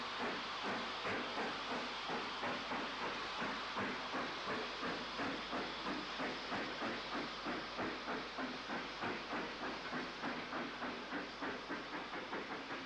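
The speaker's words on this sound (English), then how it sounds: "Standard Class 5 73141 of Patrickroft Shed needs fitter's attention, heading south for Shrewsbury, leaking steam all around its capote valve gear." A BR Standard Class 5 steam locomotive in need of repair runs south toward Shrewsbury, with steam hissing from leaks around its Caprotti valve gear over a steady, rhythmic chuffing beat, loud and close throughout.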